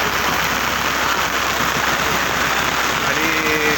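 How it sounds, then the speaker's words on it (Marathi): A dense, steady roar of heavy rain pours down on a cricket ground without letup, loud and close, with no talking. "पाऊस जोरात चालू आहे"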